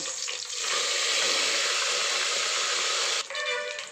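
Tempering spices drop into hot oil for sambar and burst into a loud, steady sizzle that cuts off sharply near the end.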